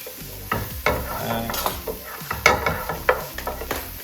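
Two onions softening in a pan, frying with a low sizzle while a utensil stirs and scrapes them in a steady series of sharp strokes, close and fairly loud.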